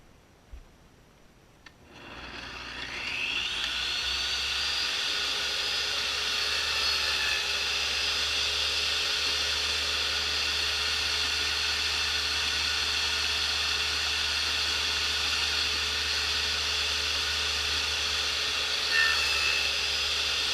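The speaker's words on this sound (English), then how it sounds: "we're going to cut a 1/4 inch groove, 1/4 inch wide groove, 1/4 inch deep, 1 inch from the side" A power tool cuts a quarter-inch-wide, quarter-inch-deep groove into a wooden toboggan side rail, starting up after a short quiet moment and then running as a loud, steady, high-pitched whine to the end, with no talk.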